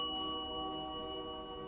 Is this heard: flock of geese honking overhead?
no